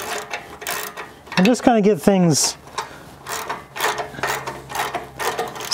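Ratchet clicks while tightening bolts on a Jeep JK rear bumper during installation, a run of quick mechanical clicks in bursts with someone talking over part of it.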